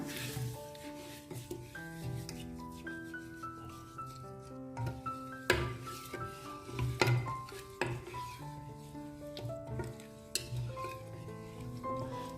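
A wooden spoon stirs sugar into a grape mixture for homemade wine, with repeated scraping and knocking against the pot, uneven strokes rising and falling, close and fairly quiet, with some faint background tones.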